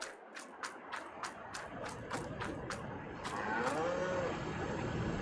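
Cows moo in the farming game Farming Simulator 22 on the Elmcreek map, several deep, drawn-out lows overlapping as a herd at feeding time, with rhythmic clicking sounds ticking through the first half.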